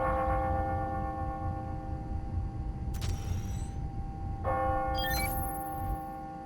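Bells ringing on the hour in the Spider-Man: Miles Morales video game, two struck chimes a second or so apart over a steady low city hum, fairly faint with no talking.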